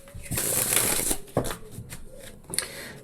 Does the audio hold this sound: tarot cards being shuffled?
yes